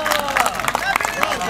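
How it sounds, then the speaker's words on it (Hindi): At a mushaira poetry gathering, the audience breaks into lively clapping mixed with crowd murmur and cheering voices, close and loud throughout the brief burst. "तालियां पुरजोर तालियां"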